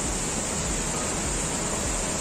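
Athirappilly waterfall rushing steadily, a dense, unbroken roar of falling water that stays even and loud throughout, with no voices over it.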